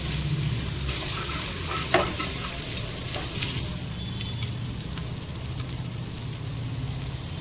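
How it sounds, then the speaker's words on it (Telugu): Ginger garlic paste with turmeric fries in a pan, giving a continuous close sizzle broken by a sharp utensil knock near the start and occasional scrapes of stirring. "ఇది పచ్చివాసన పోయే వరకు ఫ్రై చేసుకోవాలి."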